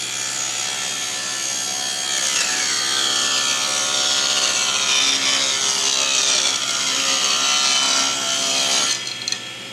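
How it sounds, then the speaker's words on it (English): A wood board being sawn to size by hand, with rhythmic rasping strokes of the saw that are loud and close, running steadily and ending abruptly. "So we need to cut this so it's 7 inches wide and 12 inches tall."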